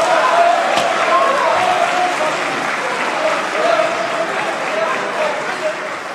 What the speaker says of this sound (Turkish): Biz de bu grubu alkışlıyoruz arkadaşlar